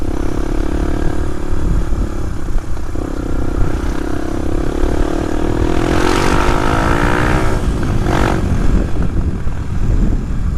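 A Suzuki DR250S motorcycle fitted with a Dominator R exhaust, engine running loud and close with a steady raspy drone, revving up with rising pitch around the middle and a brief blip later.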